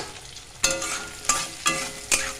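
Cubed onions and chopped chilies frying in a pan, a steady close sizzle punctuated by four sharp scrapes of a spatula stirring at roughly regular intervals.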